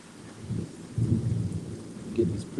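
Thunder rumbles low and continuous with steady rain falling throughout, swelling into louder rolls near the middle and end of a stormy stretch.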